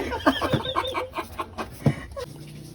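A chicken clucks in a quick series of short, close calls, with faint background noise and a few softer clucks trailing off.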